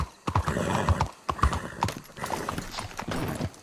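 Horse hooves clip-clop in a steady trotting rhythm close up in the video game Red Dead Redemption 2, with a horse whinnying amid the clatter.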